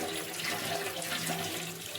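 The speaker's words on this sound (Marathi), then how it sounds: "भाजून घेतलेली सुकट अशी छानपैकी धुवून घ्यायची." Roasted dried fish is washed under a running tap, a steady close splashing of water over the fish, with no voices.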